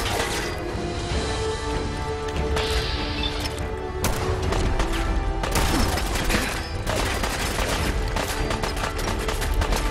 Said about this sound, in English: Ah, the machine gun!